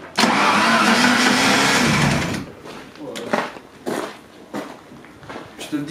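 An old Maserati engine cranks with a loud, continuous grinding whir for about two seconds, then stumbles into uneven, sputtering firing pulses as it tries to catch, close and without talk.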